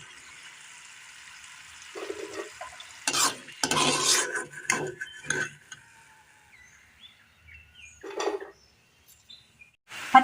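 Fried raw jackfruit sticks scooped out of a pan of hot oil, with scraping and clinking of a metal utensil against the pan in short bursts over a faint sizzle.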